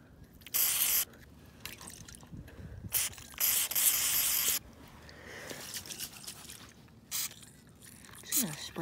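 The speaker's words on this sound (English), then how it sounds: "Trying to get some WD-40 on this line" Several short bursts of WD-40 aerosol spraying onto a Craftsman lawnmower's cable and bolts, each a second or so long, with pauses and faint handling noises between them.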